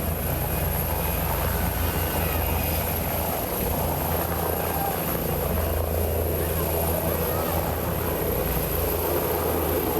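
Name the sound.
relief helicopter flying over flooded Indonesia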